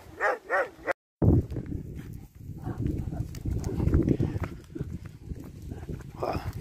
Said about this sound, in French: Ils sont excités, ces chiens.